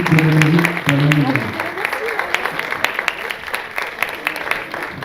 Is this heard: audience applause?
yes